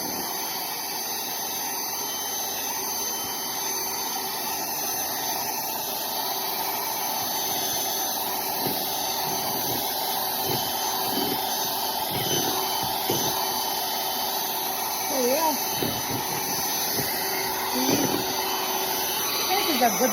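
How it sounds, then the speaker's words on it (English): An electric mixer whirs continuously while whipping cream until it turns into butter, a steady motor drone with some thumping and sloshing toward the end and a voice talking briefly over it. "So what I'm doing is I'm whipping the butter. I will whip it until it turns to butter."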